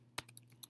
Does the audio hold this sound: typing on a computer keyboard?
yes